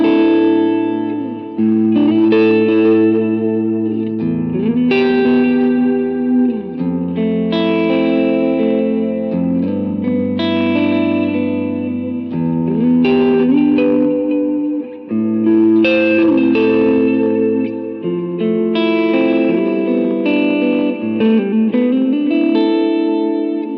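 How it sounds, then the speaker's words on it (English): An electric guitar through a Vox AC30 amp model plays sustained chords and melodic phrases with a heavily compressed, smooth tone, washed in reverb and trailing delay echoes, with no voice. "this next one uses a Vox AC30 model with a ton of compression,"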